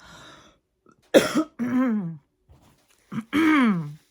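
A sharp cough followed by a strained, groaning throat sound, then another harsh cough with a drawn-out rasping exhale, close and loud.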